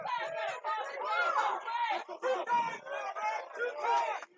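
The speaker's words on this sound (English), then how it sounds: "The crowd has noticed that one." Crowd at a 2021 Barton men's lacrosse game reacting to a big hit, a dense swell of overlapping cheers and shouts that stays loud and continuous for several seconds, rising and dipping with excitement.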